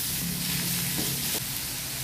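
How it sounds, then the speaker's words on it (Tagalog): Ground pork frying in a pan, a steady close sizzle with a couple of faint stirring clicks. "Minarinit na natin ang pork natin guys."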